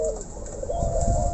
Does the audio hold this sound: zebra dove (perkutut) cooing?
yes